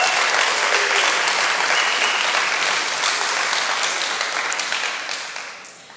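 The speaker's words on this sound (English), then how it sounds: "let's give a round of applause to all of the speakers presenting all this amazing content and organizers" An audience at a React web development conference applauds the speakers and organizers, a dense, loud wave of clapping that holds steady and then fades away toward the end.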